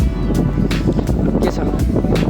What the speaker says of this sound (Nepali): हावाहुरी चाहिँ निकै नै चल्छ।